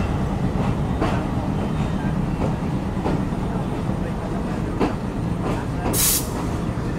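The Rocket Mail train pulls out of Khulna railway station. A steady rumble carries rhythmic clickety-clack beats from the wheels over rail joints, with a brief hiss near the end and faint voices underneath.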